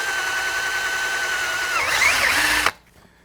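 A drill whines steadily while boring holes in the push-pull handle of a fishing rod, its pitch wavering near the end before stopping abruptly into quiet.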